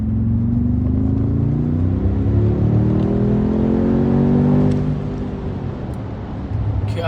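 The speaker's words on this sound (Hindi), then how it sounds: "आपको V8 सुनाते हैं टनल में कैसा साउंड करता है।" Mercedes G-Wagon G63 V8 revving hard inside a tunnel in Sports Plus mode after a downshift, a loud continuous roar with rising and falling engine tones that echo off the walls, easing slightly near the end.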